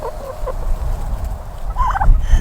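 Turkeys kept alongside a flock of chickens gobble nearby: two short warbling calls early on, then a louder rattling gobble toward the end, over a low rumbling background.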